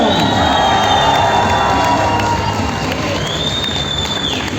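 A crowd in Yakutsk cheers and applauds for the fighters Fedor Emelianenko and Vadim Nemkov, a loud, continuous roar of voices and clapping with shrill whistles cutting through.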